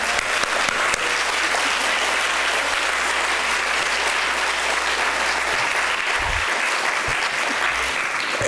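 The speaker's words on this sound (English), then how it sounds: "Let's give another round of applause to Jay" Sustained applause from an audience at a Chicago community innovation event, steady and dense throughout with no talk over it.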